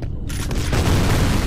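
A rapid burst of booming gunfire in the video game F.E.A.R., loud and dense, with game weapon blasts filling the short moment.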